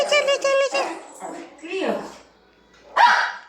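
A dog named Chuchu at a house in a subdivision gives a run of high, quick yips and whimpers. A person calls and talks over and between the sounds.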